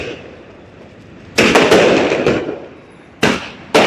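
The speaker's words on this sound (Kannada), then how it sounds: "ಎಲ್ಲರಲ್ಲಿ ಪಟಾಕಿ ಹೊಡಿಸ್ತಿದ್ದಾಳೆ" Deepavali firecrackers bursting outdoors at a home celebration: loud, hissing crackling bursts in two clusters, each with rapid pops, set against a quieter background hiss.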